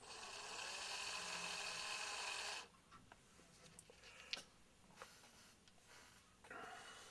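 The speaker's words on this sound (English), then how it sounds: "drill a hole in the base" A small drill whines steadily for a couple of seconds, boring a hole in the base of a plastic cylinder barrel, then cuts off, followed by quiet handling clicks and taps.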